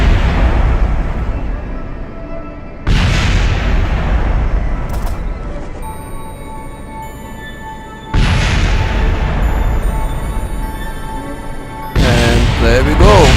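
Simulated explosions during an ExoMars lander touchdown in a game: loud, heavy booming blasts, three big bursts a few seconds apart, each followed by a long rumbling decay with sharp crackles and tonal ringing between them.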